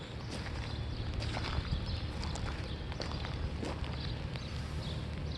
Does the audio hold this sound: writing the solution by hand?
no